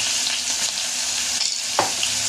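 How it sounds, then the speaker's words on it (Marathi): Cumin seeds dropped into hot oil while cooking bread pakoda give a constant, dense sizzling hiss with faint crackles, close and alone without talk. "तेल चांगलं गरम झाल्यावर आपण एक चमचा जिरे टाकून घेऊया"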